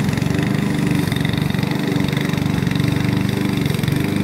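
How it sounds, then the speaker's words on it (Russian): A lawn mower engine, just started after failing to start, runs steadily at a loud, constant rumbling idle for the whole stretch, with no talking over it. "у Вовы косилка что-то не заводится"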